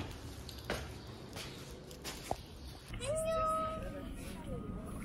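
A single drawn-out cat meow rises clearly near the end over quiet room noise in Turkey, with soft shuffling and faint voices earlier.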